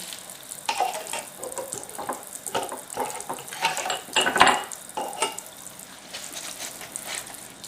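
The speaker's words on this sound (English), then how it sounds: "I'm going to go ahead and do the lids. And then I'll rinse them once I'm done soaping everything." Canning jar lids being washed and soaped in a sink, with irregular splashing water, clinks of metal and rubbing sounds that rise and fall close by.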